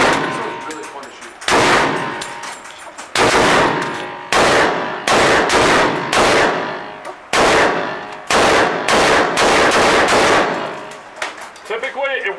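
A 1918 MG 08/15 machine gun fitted with a muzzle brake fires live rounds in about eight loud, close bursts of rapid shots, separated by short pauses.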